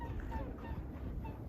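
Swans calling outdoors on a frozen winter day in Austria, a few soft honking calls rising over a steady low background rumble, fairly distant.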